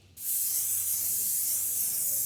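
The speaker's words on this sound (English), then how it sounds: "we're just going to spray that over the back and just spray it all over the whole bait" An airbrush sprays interference green paint over a crackle shad fishing lure, a loud, steady hiss that starts abruptly and continues without a break.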